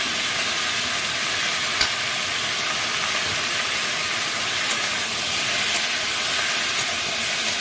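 Green chillies and vegetables frying in a pan for a tilapia fish curry with beans and potatoes, making a continuous even hiss of oil that stays steady and unbroken the whole time.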